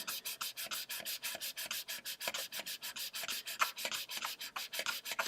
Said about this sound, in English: You mostly are just sawing away at it.